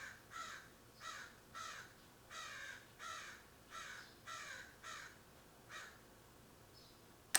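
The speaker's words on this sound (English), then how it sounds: "there's like crows outside my window right now" Crows caw outside a window in a regular series of about eight harsh calls, evenly spaced roughly every 0.7 seconds, muffled and moderately distant, with no one talking.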